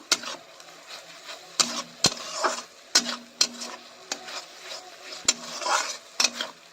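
Ginger garlic paste with potato and patol frying in a pan, with a soft sizzle under repeated sharp clinks and scrapes of a spatula against metal in an uneven stirring rhythm, close up.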